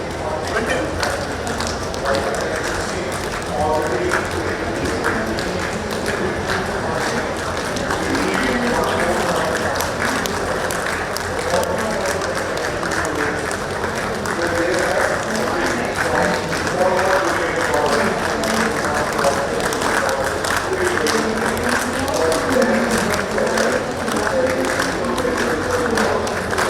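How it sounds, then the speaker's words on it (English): An audience at a startup marketing event clapping steadily in a slow, half-speed rhythm, a dense crowd sound that fills the room continuously with voices mixed in. "Clap it half the speed of what you would clap."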